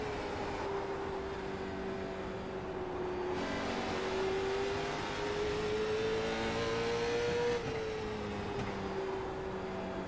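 Late model race cars circle South Boston speedway, their engines a continuous, steady drone with a slowly rising and falling pitch as the field passes.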